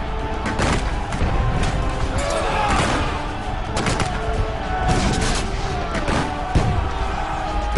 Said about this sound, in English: Bayonets clash and gunshots fire at point-blank range in hand-to-hand fighting.